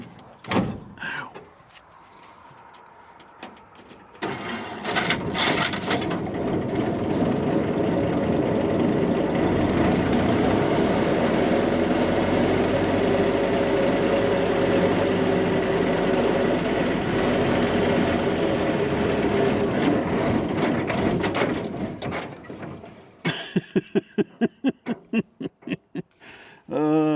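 A Jeep flatfender engine starts and runs steadily in low range with the clutch engaged, a sustained rumbling drone that holds for nearly twenty seconds before dropping away into scattered clunks.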